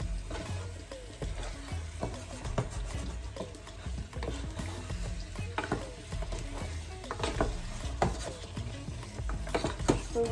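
A spoon stirs mbongo sauce with smoked pork in a pot after a splash of water goes in, giving steady scraping and sloshing over a low, continuous sizzle, with no talking.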